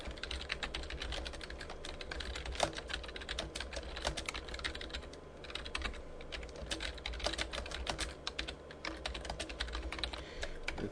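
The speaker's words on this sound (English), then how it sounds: "you can type in here what you actually want to say" Steady keyboard typing for a Twitter client, continuous rapid keystrokes with irregular rhythm throughout, close and clear with no talking.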